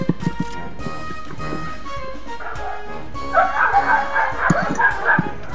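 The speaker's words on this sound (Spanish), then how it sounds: "¡Oh, los perros, weón! ¡Cállense, perros!" Several dogs bark and yip in a loud, busy cluster near the mic, over background game noise and someone shouting at them.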